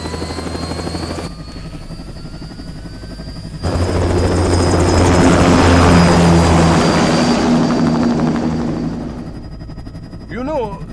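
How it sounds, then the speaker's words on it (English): An aircraft takes off in the Metal Gear Rising video game, a loud engine roar swelling under a rising whine and then fading, with game voices speaking at the end. "Commencing takeoff in semi-auto mode."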